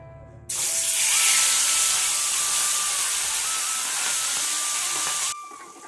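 Fish pieces rubbed with salt and turmeric drop into hot oil and set off a sudden loud, hissing sizzle that holds steady for about five seconds and then cuts off abruptly, with no voices.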